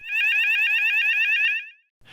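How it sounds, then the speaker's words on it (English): A building fire alarm under weekly test sounds alone at close range, a rapidly warbling electronic tone pulsing steadily for about a second and a half before cutting off. "The fire alarm is tested for a short time every week."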